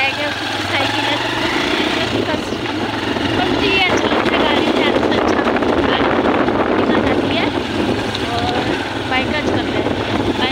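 Motorbike loaded with luggage and a bag on the back, ridden on a road in Uttarakhand: a loud continuous engine drone buried in heavy wind buffeting, with people talking throughout.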